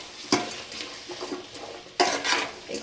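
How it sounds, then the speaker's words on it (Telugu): A spoon scrapes and stirs through vegetable biryani with ginger paste in a metal pot, a series of soft scraping strokes with a few sharper clanks against the pot, close and fairly quiet. "మొత్తం ఒకసారి ఇలా కలుపుకోండి"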